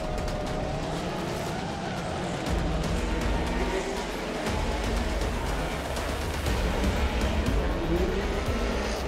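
Drift cars in a drift battle accelerating together, engines roaring loudly and continuously with tire noise throughout, a dense sustained racket with no break.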